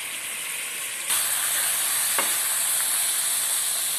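Chicken chukka cooks in a covered pan on a medium flame, giving a steady close hiss and sizzle that jumps louder about a second in, with a faint clink partway through.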